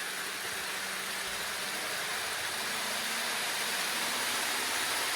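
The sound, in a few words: Dapol N gauge Midland Pullman model train running on polystyrene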